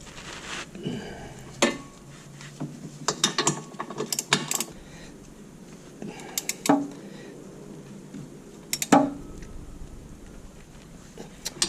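A hand ratchet tightens the bolts on the rear wheel bearing of a 2003-2006 Mini Cooper S, giving short bursts of sharp metallic clicks separated by pauses and light clanks of tools nearby.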